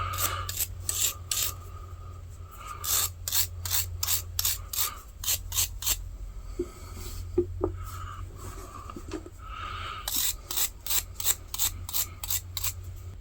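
Gunk being scraped and rubbed out of the screw threads on a vintage saw, a series of quick rasping strokes in short bursts with pauses, close and fairly quiet.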